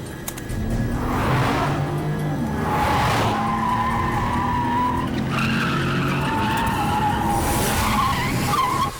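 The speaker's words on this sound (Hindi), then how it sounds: "गाड़ी आ रही है भैया" A car drives past with loud, sustained tire skids, squealing tones rising and falling over a rumbling engine for most of the nine seconds, in a tense chase scene from a Hindi action film.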